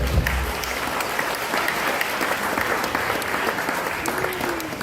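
An audience at a men's support gathering in Ohio breaks into sustained applause, a dense, even wash of clapping that holds steady for the whole stretch with faint voices mixed underneath.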